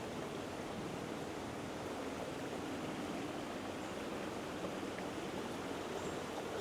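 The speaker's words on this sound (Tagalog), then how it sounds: "Water cascade." Water spills steadily down a cascade in a man-made forest, a dense, continuous rushing hiss that stays even and close throughout with no voices over it.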